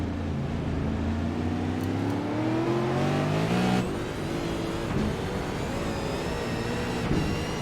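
Race cars at Oulton Park brake hard into a tight corner, then rev up under power and accelerate over a hill, several engines droning and rising in pitch at close range, one after another.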